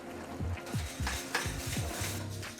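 A flour mixture is stirred with boiling water in a pot, giving a steady series of scraping, sloshing strokes against the pot at an even rhythm, close by and moderately loud.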